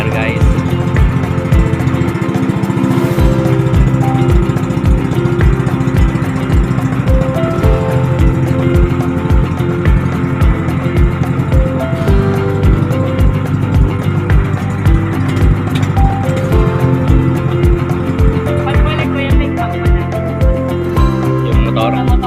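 A habal-habal passenger boat motor runs on Laguna lake, a loud, close engine chugging in a fast steady rhythm throughout, with occasional voices over it.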